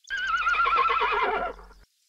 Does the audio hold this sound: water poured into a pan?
no